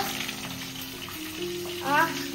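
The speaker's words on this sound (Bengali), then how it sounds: "মাছ ভাজা হচ্ছে, চিতল মাছ ভাজা।" Chital fish frying in hot oil gives a steady, close sizzle with a constant hiss, and a brief voice cuts in near the end.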